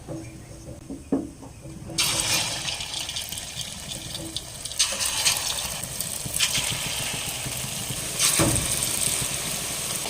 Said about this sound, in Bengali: এবার গরম তেলে বড়িগুলো ছেড়ে দিয়ে ভেজে নেব